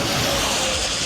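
Traffic on a roadside rushes past with a steady, broadband roar, loud and close, with no clear talk over it.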